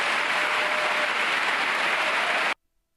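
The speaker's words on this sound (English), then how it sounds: "Look at the clowns clapping at that." An audience at Liberty University breaks into loud, dense applause that holds steady for a couple of seconds and then cuts off abruptly into silence.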